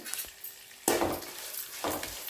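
Utensil scraping and stirring grated fresh coconut into a tempering in a pan, a few scuffing strokes over a soft background sizzle, with no talking.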